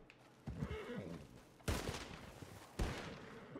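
Gunfire bursts in Red Dead Redemption 2 as a horse is shot, three sharp loud cracks spaced about a second apart with a whinny-like cry among them, no talking.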